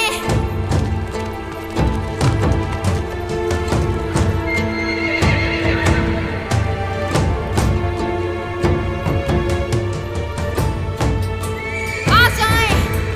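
A horse neighs loudly near the end of a dramatic scene, preceded by a steady run of hooves clip-clopping and tapping throughout, close and prominent under music-like tones.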